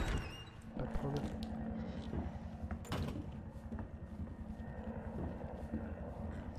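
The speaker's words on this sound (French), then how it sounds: "c'est un moteur, un hélicoptère ?" A helicopter engine in Resident Evil 2 gives a steady, low rhythmic thudding drone that fills the scene at moderate loudness, with a voice talking over it.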